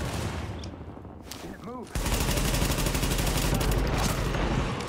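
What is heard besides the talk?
gunfire in The Division video game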